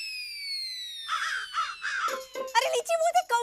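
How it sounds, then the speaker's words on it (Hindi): A crow caws several times, loud and near, in a quick run of harsh calls that follows a steady high whine. "वो देख कौवा फिर से आ गया।"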